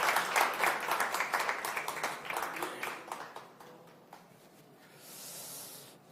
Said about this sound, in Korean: 큰 박수로 좀 격려해 주시면 고맙겠습니다.